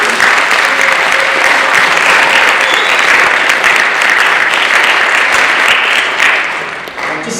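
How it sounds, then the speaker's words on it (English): Audience applause for STEM capstone presentation teams at a school event, a dense steady roar of clapping from a large crowd filling a hall, sustained loudly before tapering off at the end. "let's give all the teams a huge round of applause for all that they did."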